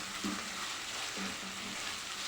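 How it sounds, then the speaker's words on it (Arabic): Onions with four cloves of minced garlic sauté in a pot, giving a faint, steady sizzle with a few soft periodic stirring strokes underneath. "اول ما تدبل معايا انزل عليها ب4 فصوص من الثوم. ثوم مفروم. اشوح برضو"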